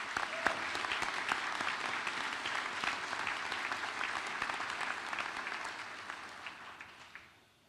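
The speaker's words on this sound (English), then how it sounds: "Let's give them all a round of applause." A commencement audience applauding steadily, dense clapping from a large crowd that holds for several seconds before tapering off at the end.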